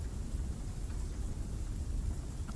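Continuous rain and thunderstorm ambience: an even hiss of falling rain over a low rumbling undertone, fairly faint and steady, with no voices.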